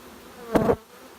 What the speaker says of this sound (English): there they are heading in, little wings flapping